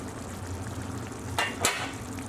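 A lid comes off a simmering pot of Persian khoresht-e gheimeh with a couple of short metallic scrapes over a low, steady bubbling and sizzling background.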